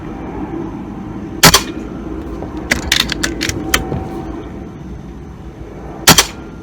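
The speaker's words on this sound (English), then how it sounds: "they're shooting completely different from that last magazine" A gun fires from a magazine during chronograph testing. Sharp cracking shots come close by: a double report, a quick irregular cluster, then another double shot, over a steady background hum with no talking.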